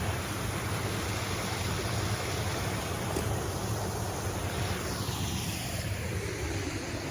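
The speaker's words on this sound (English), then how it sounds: "But look at the beautiful creek." Rushing mountain creek water on a remote hike, a steady broadband wash of flowing current with light wind, continuous and close throughout with no talking.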